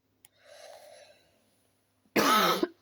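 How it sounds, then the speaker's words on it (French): A single person coughs close up, with a soft throat-clearing rasp first and then a sharp, loud cough burst after a short pause of quiet. "je vais beaucoup tousser"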